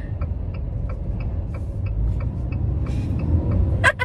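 A car on the road, heard from inside as a steady low rumble with a soft, regular ticking like a turn signal and a few brief higher clicks near the end.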